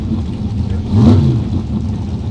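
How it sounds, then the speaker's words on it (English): A pair of Super Pro dragsters launch at a drag race, a deep engine rumble swelling into a loud surge and then easing back, heard from a distance with no talking. "Pair of Super Pro dragsters, round number 1"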